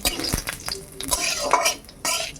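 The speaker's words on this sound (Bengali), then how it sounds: "লঙ্কা দিয়ে দিলাম আর দেবো ফোড়ন" Green chilies and whole spices hitting hot oil for tempering a sour fish curry, with steady sizzling and frying broken by clinks and stirring scrapes of a utensil against the pan.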